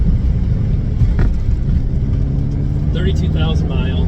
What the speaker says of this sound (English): 5-speed manual, twin turbo V8.